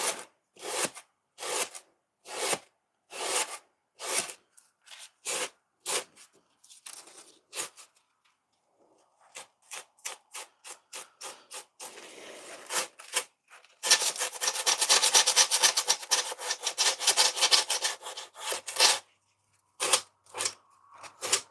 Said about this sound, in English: you don't need to do too much of more aggressive sandpaper than this